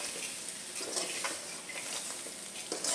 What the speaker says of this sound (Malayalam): പപ്പടം ഇട്ട് കൊടുത്തതിന് ശേഷം നമുക്ക് നന്നായിട്ട് പപ്പടമായിട്ടൊന്ന് മിക്സ് ചെയ്ത് കൊടുക്കാം.